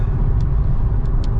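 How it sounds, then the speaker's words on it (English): Heavy road traffic rolls past on a slippery highway near Canberra, a loud, steady low rumble of engines and tyres with a few brief higher hisses. "check out all the traffic coming back now from"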